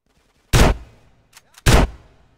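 Two loud, sharp gunshots from a GTA San Andreas Definitive Edition shootout, about a second apart, each a hard broadband blast with a short tail, and faint clicks between them.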